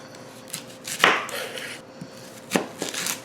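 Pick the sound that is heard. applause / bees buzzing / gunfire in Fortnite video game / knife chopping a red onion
knife chopping a red onion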